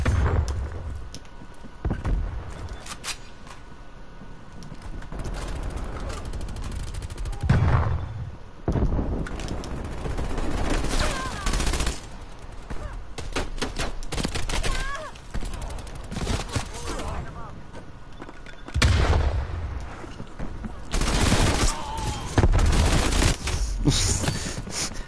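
A PPSh submachine gun in Call of Duty Cold War fires repeated rapid bursts that crack loud and near, broken by short pauses across a busy firefight, with some talk mixed in.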